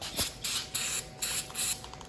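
A spray cleaner is blasted onto a spark plug from a Mustang during a tune-up, giving several short, loud hissing bursts in a steady on-off rhythm, heard up close with no talking.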